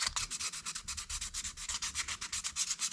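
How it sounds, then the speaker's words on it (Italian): A Casström puukko knife blade being sanded by hand, a fast even rhythm of rasping back-and-forth strokes, close and steady, with no voices. "Quindi continuate a levigare il più possibile."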